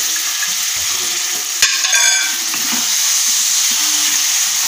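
Steamed chickpeas fry in oily masala for dhaba-style chana masala, a steady close sizzle broken by a sharp spoon scrape and a few quick stirring clatters partway through.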